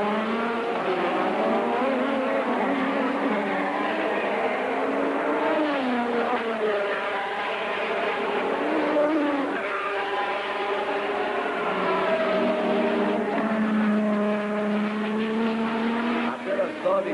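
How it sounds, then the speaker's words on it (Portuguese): Formula 1 race cars at the German Grand Prix, high engine whines rising and falling continuously as cars pass, with a commentator talking over them throughout. "Balançou muito o carro do Prost."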